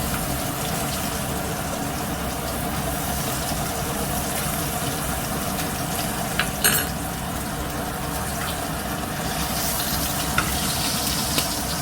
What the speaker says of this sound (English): So it's been a couple of minutes in the frying pan now.